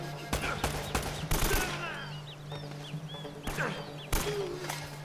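Gunshots in the video game Uncharted: Drake's Fortune, heard as several sharp cracks and a short burst of fire over game ambience with bird-like chirps.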